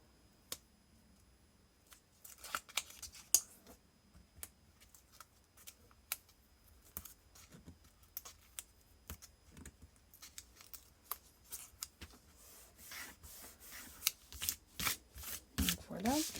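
Paper pieces being glued and pressed onto a scrapbook album page, heard as scattered close rustles, taps and rubbing strokes that grow denser and sharper toward the end, with no talking.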